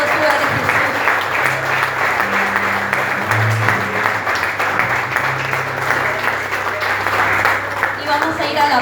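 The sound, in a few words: congregation applauding in church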